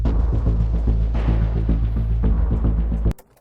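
Loud, driving World of Tanks battle music with pounding low percussion and dense layered tones, ending abruptly in a sharp cut.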